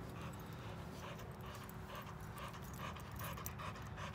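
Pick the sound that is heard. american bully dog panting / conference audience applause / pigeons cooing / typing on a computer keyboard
american bully dog panting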